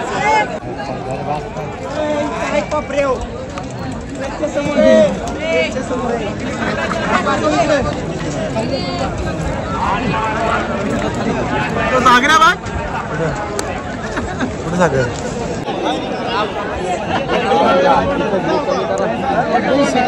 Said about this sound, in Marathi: मथुर आणि बकासूर खाली चालल्यामुळे एवढी गर्दी मैदानामध्ये.